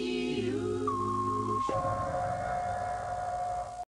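An edited logo jump scare blares a loud siren: a dense, wailing tone swells briefly, then drops abruptly into a single piercing, steady high siren note that holds until a sudden cutoff.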